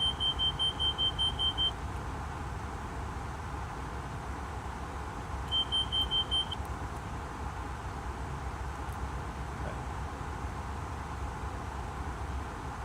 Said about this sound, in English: That sounds like a fire alarm or just smoke alarm.